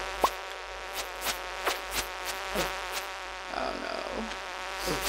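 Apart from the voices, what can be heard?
buzzing bugs in Stardew Valley video game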